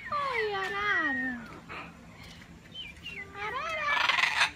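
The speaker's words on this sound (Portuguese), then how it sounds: "Arara macão." Scarlet macaw at a bird park, giving several loud harsh descending squawks close by, with a bright burst of noise near the end and a faint background hum.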